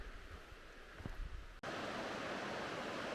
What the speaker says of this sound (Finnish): Hyvä vedenkohina kuuluu kyllä tuolta oikealta puolelta koko ajan.